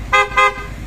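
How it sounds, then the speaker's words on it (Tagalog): Two short, close toots from the newly fitted horn on a Honda X-ADV 750 motorcycle, bright buzzy blasts in quick succession over faint background noise. "Okay na yung busina niya, gumagana na."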